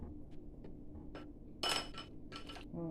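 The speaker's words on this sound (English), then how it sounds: "Stir well." A spoon stirs bulgur and beans in a pot for a Jamaican-style dish, giving quiet scraping and a few clinks of metal against the pot, close by and irregular.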